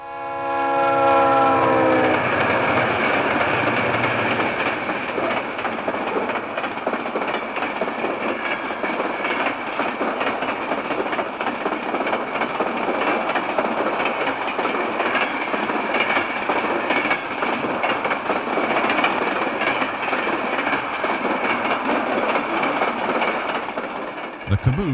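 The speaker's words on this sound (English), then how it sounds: "a train of trailers on flat cars ducks under the signal bridge as it heads" A Penn Central freight of highway trailers on flatcars heads east on Track 1 at Millbury, Ohio, in 1970. A horn blast opens, then a loud, steady roll of wheels and rattling cars carries on as the train passes close by.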